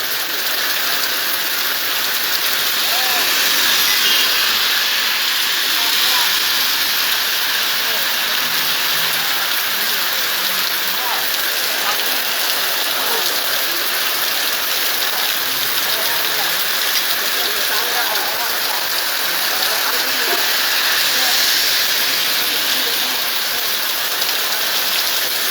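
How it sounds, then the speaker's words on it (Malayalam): Heavy summer rain pours down toward dusk in a dense, unbroken hiss that holds steady and loud throughout, with a faint low rumble beneath. "അങ്ങനെ തുള്ളിക്കൊരു കൂടം പേമാരി പോലെ മഴ ഇങ്ങനെ ആർത്തലച്ച്"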